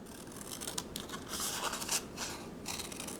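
Paper being cut with scissors into a mountain-like zigzag shape, heard as a close, steady run of snipping and crisp scraping strokes with brief bursts over a few seconds, no talking.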